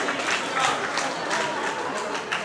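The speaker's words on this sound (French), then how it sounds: "je peux applaudir" Steady applause from a crowd, continuous dense clapping throughout at moderate loudness with no pauses.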